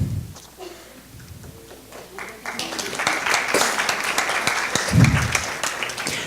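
An audience at an environmental candidates forum in Canmore bursts into growing applause, rising in loudness under a speaker's voice and sustained to the end.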